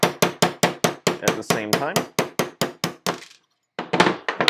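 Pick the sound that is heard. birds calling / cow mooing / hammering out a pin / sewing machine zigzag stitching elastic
hammering out a pin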